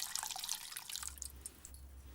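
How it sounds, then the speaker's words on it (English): Salmon poaching liquid is poured off from a pan, a soft, close trickle and splash of liquid that fades toward the end, with no talk. "Just pour off this poaching liquid so that the flavours permeate into the rice"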